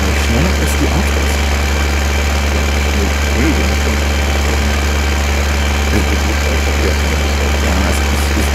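A slow tractor in Farming Simulator 2015 idles with a steady low engine drone and constant vibration. The hum runs throughout at even loudness.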